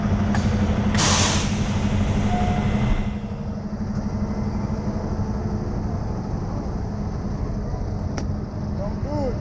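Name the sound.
semi truck air brakes being set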